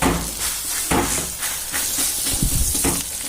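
Methi thalipeeth flatbread cooking on a medium-hot tawa, a loud, close hissing sizzle with steamy bursts and uneven crackles throughout.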